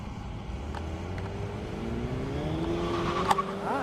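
An Audi S4 race car launches off the starting line at an airstrip drag event, its engine note climbing steadily as it pulls away, with a sharp bang near the end.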